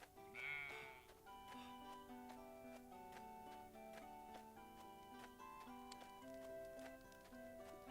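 Video game sheep in Cozy Keep bleat once early on, a short wavering cry over a soft, quiet melodic game music bed with light ticking; the bleat is faint and brief rather than prominent.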